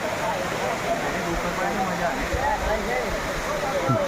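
Steady broadband rushing of water falling at Khuniya Mahadev waterfall in the Pavagadh forest fills the clip, constant and fairly loud, with a faint voice occasionally surfacing beneath it.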